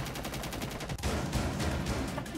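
Rapid gunfire from a shotgun in the Rainbow Six Siege video game, a fast string of loud, close shots with one brief gap before the firing resumes.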